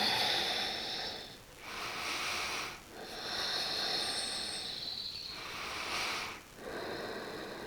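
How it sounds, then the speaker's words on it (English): Someone breathes deeply in a yoga twist, with slow, soft, airy inhales and exhales repeating in a steady rhythm of about four breaths, faint and close, with no speech. "Breathing deeply."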